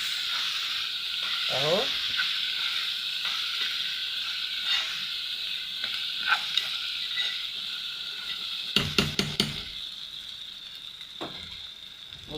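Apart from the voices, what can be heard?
sautéing rice with vermicelli and salt in a pot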